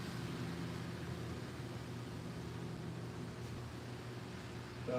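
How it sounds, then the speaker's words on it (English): Street sweeper trucks cleaning the streets, a low, steady mechanical drone and broadband hiss, constant and moderately distant throughout. "Sound like the sweeper trucks in here cleaning the streets."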